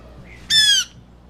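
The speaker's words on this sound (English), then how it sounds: "That's the jaybird noise." A single loud, harsh squawk of a blue jay rings out for about a third of a second against a quiet background.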